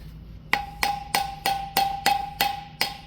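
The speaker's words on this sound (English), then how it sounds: "I'm hitting the seal with the metal hammer" A metal hammer strikes a rear axle seal on a Shuttlewagon railcar mover: eight sharp, evenly spaced blows, each one ringing metallically and decaying quickly. The strikes are close and loud, with no voices.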